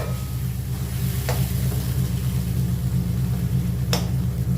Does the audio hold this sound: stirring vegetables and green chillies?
yes